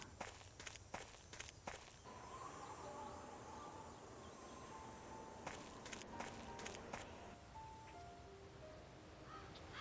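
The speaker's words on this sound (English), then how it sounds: "Again, more birds." In the video game Agatha Christie: And Then There Were None, crows caw outdoors over a steady run of footsteps, the steps crisp and close while the bird calls sound farther off.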